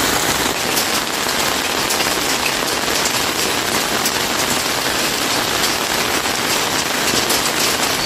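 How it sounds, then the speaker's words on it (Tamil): Heavy monsoon rain pours over the Vaniyambadi area of Tamil Nadu as a dense, steady hiss of downpour, loud and continuous throughout. No distinct thunderclap stands out. "வாணியம்பாடி சுற்றுவட்டார பகுதிகளில் இடிமீடன் கூடிய கனமழை பெய்ததில்"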